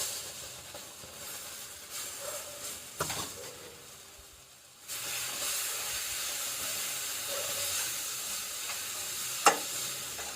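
Tomato puree hits a pan of frying gram flour masala for stuffed brinjals, bursting into a loud, steady sizzle and hiss that holds for several seconds after a quieter stretch of gentle frying and stirring.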